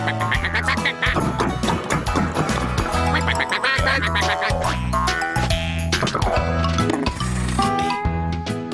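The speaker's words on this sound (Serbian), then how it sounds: "Tom je zatim pronašao patke." Cartoon ducks on a farm quacking repeatedly in a rhythmic series over bright background music, loud and close throughout.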